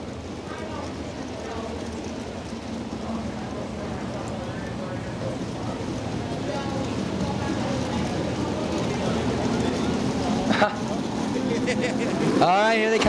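410 sprint cars roaring through turn 4 at the start of an eight-lap heat race at Crystal Motor Speedway, Michigan, a distant engine drone swelling steadily louder under an announcer's commentary.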